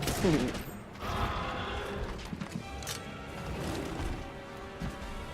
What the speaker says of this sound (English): He's shooting his shots, running out of ammo and stuff.